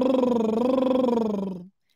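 Vocal rev warm-up in a singing class, a sustained buzzing hum wobbling around the same few notes like a revving motorbike imitated by voice, steady and close before cutting off abruptly.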